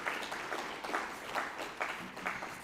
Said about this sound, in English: can we please at least welcome everyone with a round of applause